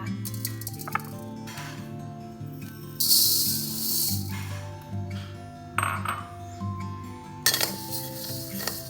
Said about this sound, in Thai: เราก็จะนำข้าวสารไปคั่วนะคะ